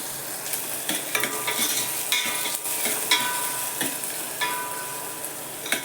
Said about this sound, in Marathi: परतून घ्यायचा कांदा चांगला